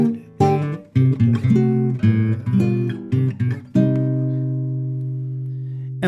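Guitar chords played with a moving bass line jumping across open strings, a busy rhythmic passage of plucked attacks that ends on a long sustained chord ringing out, close and alone with no voice.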